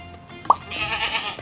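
A single short sheep bleat, sharp and fairly close, rising briefly over a soft background bed.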